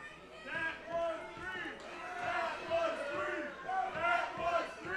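A wrestling arena crowd rumbles and shouts in protest at a referee's call, a swelling, uneven roar of many voices filling the hall.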